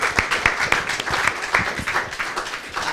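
A lecture audience claps in warm, dense applause that runs steadily through the short stretch, moderately close and without talk over it.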